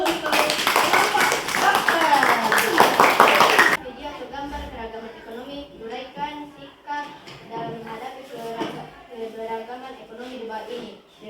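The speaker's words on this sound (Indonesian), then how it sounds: "Kasih aplaus dulu untuk kelompok dokter" Classroom applause for a student group, a dense burst of many hands clapping for about four seconds, then it stops and speech continues in the room.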